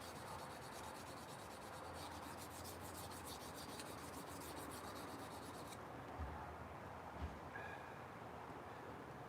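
A scandi grind folding knife is stroked along a sharpening stone in rapid, steady rubbing passes, fairly quiet and close, with the rasp stopping partway and a couple of light knocks after.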